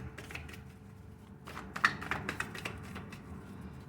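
Short bursts of riffling tarot card shuffles with a few crisp snaps, close by, over a low steady background hum.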